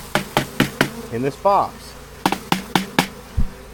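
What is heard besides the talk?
honeybees buzzing in a hive box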